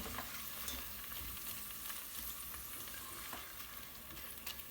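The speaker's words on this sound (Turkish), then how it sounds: "Salçamızın kokusu da çıkana kadar şöyle 1-2 dakika bir kavuralım." Tomato paste sizzles and fries steadily in a pan, a continuous close crackle with scattered stirring scrapes and no talking.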